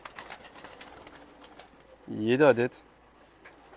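A crested Serbian bango pigeon gives one loud, rolling coo close by, following a man's quiet speech in the background.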